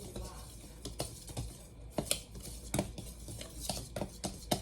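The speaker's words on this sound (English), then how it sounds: "And then you whisk that together." A whisk stirs flour and salt together in a bowl, giving a quick series of close, light scraping clinks and taps against the bowl.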